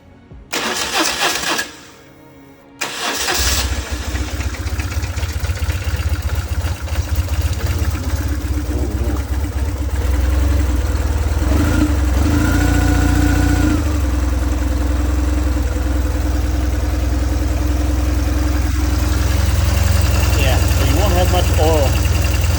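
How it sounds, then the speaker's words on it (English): A BMW R1150GS motorcycle engine is cranked and starts, then settles into a steady, loud idle that runs throughout, with a brief dip around the start and voices talking over it at times. "let's crank it up, get that oil down, and yeah, let's circulate the oil."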